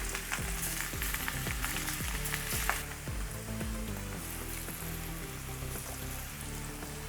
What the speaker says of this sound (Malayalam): അപ്പോൾ ഞാൻ ഇതിലേക്ക് ഫിഷിൻ്റെ പീസസ് ഇട്ട് കൊടുക്കുകയാണേ.